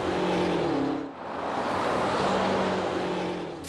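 A car speeds down a quarter-mile track, a loud broadband engine roar and wind rush that briefly dips, then surges again, sustained and close with no voices.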